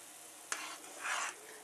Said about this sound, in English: When the water comes to a boil, stir in your beef bouillon.